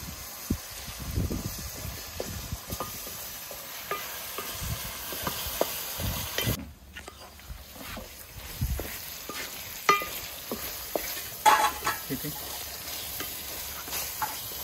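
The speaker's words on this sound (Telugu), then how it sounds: "కోసుకున్న వంకాయ ముక్కలు వేసుకుని కొద్దిగా మగ్గించుకుందాం." Chopped brinjal pieces softening in a pan over a wood-fired stove outdoors at a farmhouse, with a steady low sizzle broken by scraping stirs and clinks throughout, plus a brief quiet gap midway.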